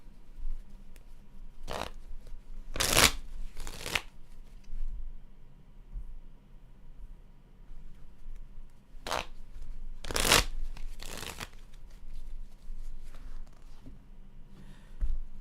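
Playing cards shuffled for a card reading, heard as several short riffling bursts, a pair close together early, then another pair later, with quiet gaps between them and a faint one near the end.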